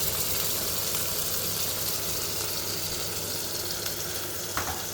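Onions with cumin, garlic, ginger and chili sizzle steadily in hot oil in a pan, a constant close frying hiss with no talking.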